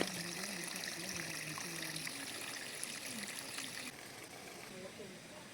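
Water poured onto soil covering fertilizer around a pineapple plant, a steady trickling stream running throughout, with a voice talking over it.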